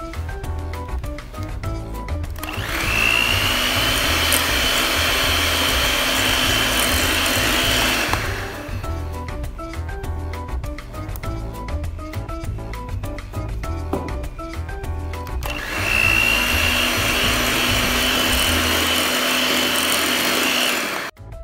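An electric mixer beats eggs into creamed butter and sugar for cookie dough, whining loudly in long bursts with a quieter, duller stretch in between.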